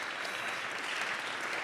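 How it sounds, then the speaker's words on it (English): Steady applause from an audience, a dense even patter of clapping filling the room. "could we give them a round of applause for putting this together?"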